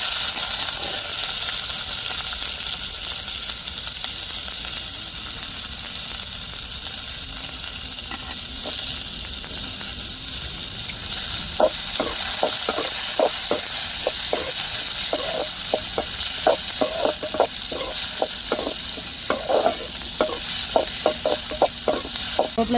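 Onions and whole spices such as cinnamon frying in a pan for a spicy prawn dish, a steady close sizzle and hiss with a run of sharp spoon-stirring scrapes in the second half.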